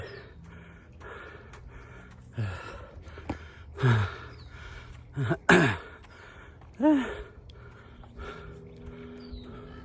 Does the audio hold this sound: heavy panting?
yes